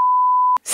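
A steady electronic censor beep, a single pure tone lasting about half a second, masks a spoken savings amount during Indonesian talk about a perfume business, followed by a brief burst of noise.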